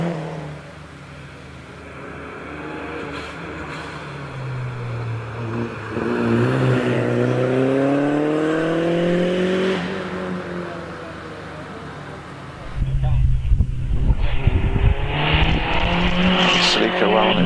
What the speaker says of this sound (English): Celica well on its way up the hill